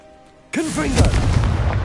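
Confringo blasting spell in Hogwarts Legacy goes off with a sudden loud boom after a quiet moment, followed by a sustained crackling, rumbling blast tail.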